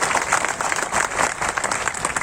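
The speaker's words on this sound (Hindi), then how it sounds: "ताली बजाकर अपने लिए भी अभिनंदन कर लीजिए, स्वागत कर लीजिए" Steady audience applause fills a hall at a teachers' rally over old pension, promotion and upgrade demands, dense overlapping claps at even loudness from start to end with no talk over them.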